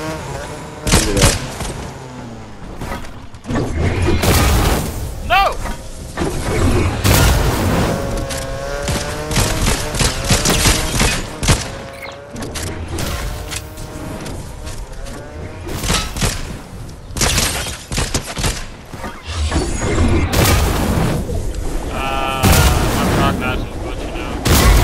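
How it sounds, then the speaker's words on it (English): Bombs going off in a video game, repeated heavy booms and thuds mixed with crackling blasts, loud and nearly constant, with game sounds and voices layered over them. "there's a lot of bombs in here"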